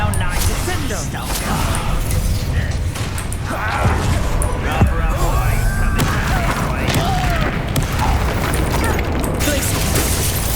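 Spells cast in Hogwarts Legacy combat, with booming magical bursts and crashing impacts layered over dense game music and effects, while a voice speaks over the action throughout.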